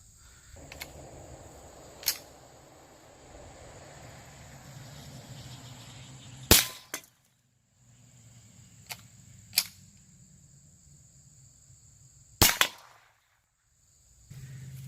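Sharp, dry cracks of .22 LR shotshells, Federal and CCI bird shot, fired at cans outdoors: a few loud isolated reports with small pops between them over steady insect buzz, no talking.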